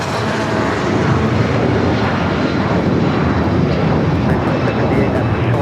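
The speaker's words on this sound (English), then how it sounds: "This is United Airlines 1981 taking off to Newark on the 757-200." A United Airlines Boeing 757-200 takes off from Los Angeles bound for Newark, its engines a loud, steady broadband roar that holds at full strength throughout with no pause.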